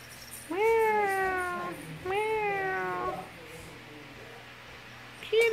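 A cat meows twice in close succession, each call drawn out, loud and close, followed by quieter background noise and a brief faint sound at the end.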